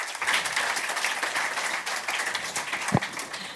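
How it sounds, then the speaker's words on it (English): Conference audience applauding a panel on a festival stage, steady dense clapping throughout, fairly loud with one sharper clap near the end. "So big round of applause for our fantastic panel."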